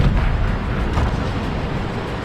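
The main gun of a Charioteer tank destroyer fires in a tank video game, a loud, dense, sustained blast and rumble that fills the short moment.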